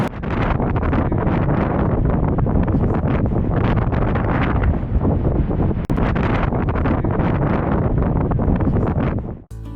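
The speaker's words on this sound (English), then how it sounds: "Because of the wind, you couldn't hear what we were trying to say." Strong wind on a California beach near San Francisco buffets the microphone, giving a steady, loud roar and rumble for nearly ten seconds that drops out sharply at the very end.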